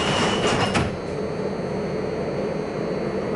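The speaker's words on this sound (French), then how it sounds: "on est dans le tramway, les enfants." Inside a moving tram in Milan, a steady low rumble fills the car. A brief metallic rattle and squeal come near the start, then the ride settles into an even drone with no voices.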